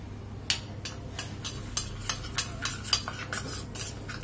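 A spoon stirring flour batter made from atta or maida in a bowl, steady rhythmic clinking and scraping strokes at close range, about two per second.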